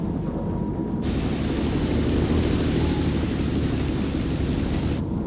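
A storm at sea at night in the video game Man of Medan, with a loud, steady roar of wind and rain and a brighter hissing surge through the middle that could be thunder or a gust.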